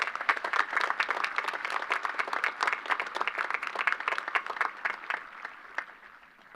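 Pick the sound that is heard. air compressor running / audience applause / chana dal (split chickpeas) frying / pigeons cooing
audience applause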